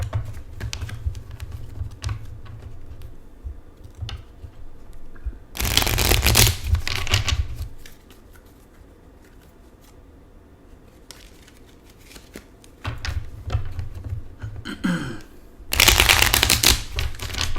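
Playing cards being shuffled by hand, two loud riffling bursts a few seconds each with soft card handling and tapping between them, close up and without talk.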